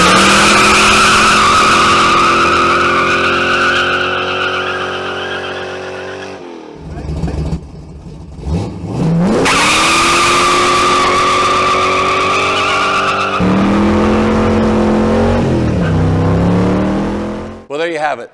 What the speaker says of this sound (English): My 1966 Ford Cortina with a V8, a 331 transplanted under the hood.